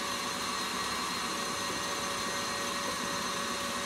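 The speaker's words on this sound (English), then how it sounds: "On this 250-gram now, I'm just going to whisk it up." An electric whisk whips a 250-gram mix toward stiff peaks, giving a steady, loud, close motor whir with a high whine that runs unbroken throughout, with no talking over it.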